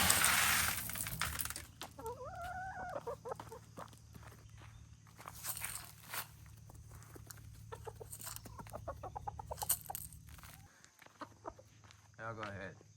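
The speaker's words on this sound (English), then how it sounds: "my chickens are obviously doing fine. They're hungry, so let's get them some food" Hungry backyard chickens cluck and call nearby over a low steady hum, with shuffling footsteps moving around them and a few short bursts of noise.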